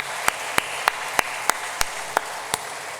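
A church congregation claps to honor its Sunday school teachers, a crowd applause bed punctuated by a regular series of sharp, loud individual claps roughly every third of a second, standing out up front.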